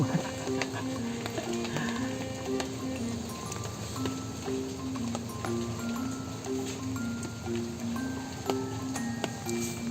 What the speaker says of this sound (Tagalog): Ilalagay na natin yung ating bisugo.